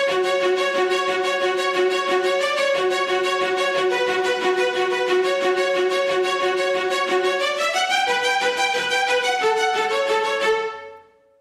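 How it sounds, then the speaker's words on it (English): Nucleus by Audio Imperia string ensemble plays a rapid spiccato melody, steady bouncing short notes that shift pitch with the chords, loud and close with no voices, before it stops and fades into silence. "these spiccatos sound like this"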